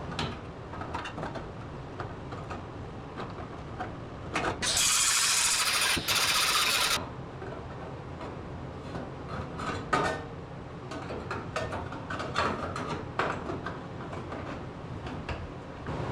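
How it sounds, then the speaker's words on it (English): Angle grinder working sheet metal on a 1951 Ford Shoebox car body being chopped, with a steady loud hissing grind of about two seconds standing out over a busy shop background of clatter and ticking. "I'm just gonna grind it down little by little"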